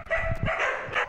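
Several dogs bark and yip together in a busy animal shelter, a dense overlapping chorus of close, loud barks with a few higher whimpers mixed in.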